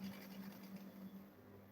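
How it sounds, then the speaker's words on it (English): A sewing machine stitching the side of a double zip lunch bag, a faint, steady mechanical whir with a low repeating hum running continuously, no voices. "Then from here, I will sew this side."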